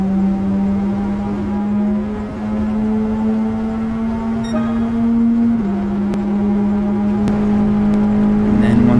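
Toyota AE86 race car engine in a racing video game, holding a steady high drone whose pitch rises slowly, dips at a gear change and climbs again, loud and continuous.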